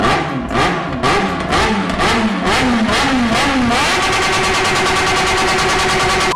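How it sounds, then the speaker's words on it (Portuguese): A motorcycle engine roars loudly and close, revving up and down several times in quick bursts, then holding a steady high drone. "o ronco da moto do Mike"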